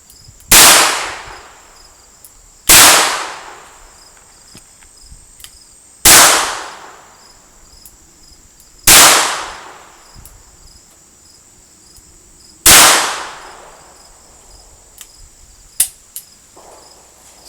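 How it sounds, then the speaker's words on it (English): A Taurus Tracker 990 .22 LR revolver fires five double-action shots at a target, each a sharp, loud crack with a short ringing decay, spaced about three seconds apart over steady insect chirping. "I'm going to shoot double action at the top right target"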